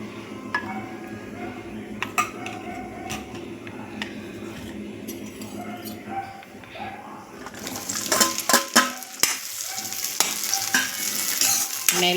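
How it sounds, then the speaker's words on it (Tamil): Citron pieces sautéing in hot oil in a pan, a steady sizzle with a spoon scraping and stirring against the metal, growing louder and brighter midway as the stirring picks up, close to the microphone. "எண்ணெயில் வதங்கட்டுங்க."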